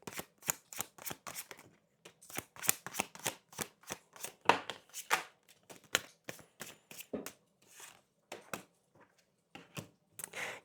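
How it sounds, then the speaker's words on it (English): Tarot cards are shuffled by hand in quick, faint, close riffling bursts with short pauses between them, and no one speaks. "We're gonna see if I could not get a botched fucking shuffle."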